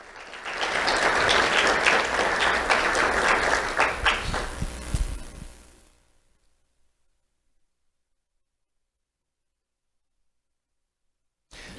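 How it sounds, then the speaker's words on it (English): Audience applause at a sheriff's office awards ceremony for schoolchildren, a dense burst of clapping for about five seconds that thins and fades into silence. "Let's have a round of applause for Sarai Cole"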